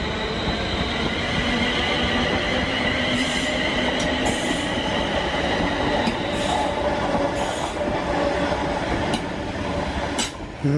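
A passenger train rolls past near the Luton Airport Parkway, Harpenden and St Albans line, a loud continuous rumble with rail clatter and occasional high wheel squeals throughout, no voices.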